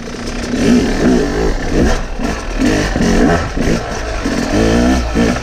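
Dirt bike ridden in second gear through tight, technical trail terrain, its mid-pitched engine loud and close, throttle rising and falling in short steady pulses without high revving.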